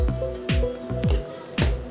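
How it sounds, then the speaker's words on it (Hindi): Paneer cubes drop into a thick shahi paneer gravy with several soft wet squelches and drips, close by, over a faint steady background hum. "अब मैं यहाँ पर पनीर मिलाऊंगी, ये मैं सारा पनीर डाल रही हूँ।"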